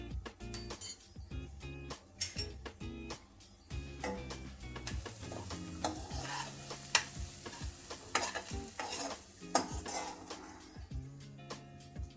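Spices go into a pan for a raw jackfruit vegetable dish and get stirred, a soft sizzle under uneven scraping and occasional clinks of the spoon, quiet and close.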